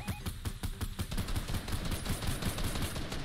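Rapid gunfire in a shooter video game, with bursts of shots crackling in a steady rhythm, loud and continuous throughout.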